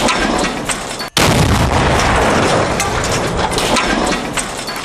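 A bomb disposal test detonation, recorded in test footage linked to an explosion investigation in Afyon, is heard as a loud, sustained roar of blast noise with a sharp break and renewed burst near the start, continuing at full strength.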